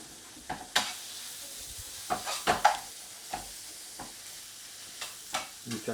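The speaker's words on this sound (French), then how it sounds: "je vais faire rissoler mes pommes." Apples browning in melted butter give a faint sizzle, broken by sharp scraping stir clicks scattered through, quiet and close.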